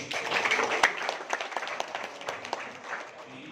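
Audience at a hackathon event clapping, a scattered patter of individual claps with a few sharp near claps standing out, gradually thinning toward the end.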